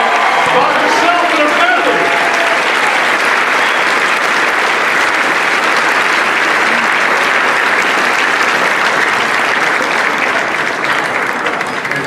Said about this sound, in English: Let's give his mom a round of applause